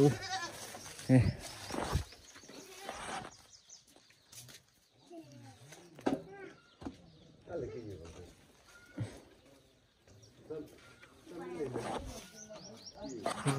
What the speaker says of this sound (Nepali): आज मामको बाख्राहरू यहाँ 1 2 3 5वटा रहेछ